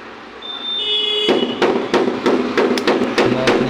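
Someone hammers out the lock inside the shock absorber nut of a TVS XL100 moped, striking about eight loud, sharp metallic blows in a fairly steady rhythm at close range.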